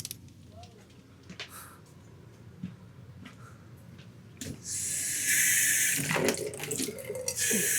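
Water runs from a tap in an off-grid setup, a soft hiss that starts partway through and grows into a steady, fairly loud rush, with quieter background sounds and voices earlier.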